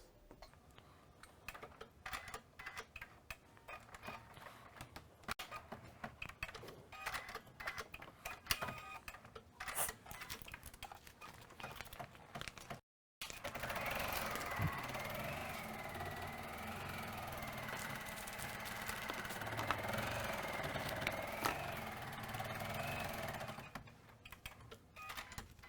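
An embroidery machine loaded with white thread stitches a placement line on cuddle fabric, its needle running in a rapid, steady mechanical chatter up close. Irregular clicks and handling taps come first, then a short gap before the stitching starts.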